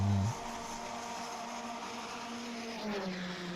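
A 1950s 250F Grand Prix racing car runs at speed on the Dundrod road circuit, its engine note a clear sustained tone that holds steady and then shifts pitch as the single car passes at moderate distance.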